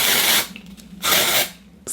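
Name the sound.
Soap and Glory dry shampoo being sprayed on hair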